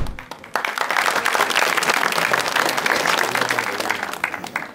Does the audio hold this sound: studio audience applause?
yes